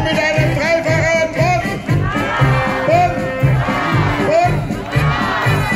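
A dense Bonn carnival crowd roars back in rhythmic bursts, answering a triple cheer for the prince couple, with loud shouts and whoops swelling over a steady thumping beat, while a voice speaks briefly amid the noise.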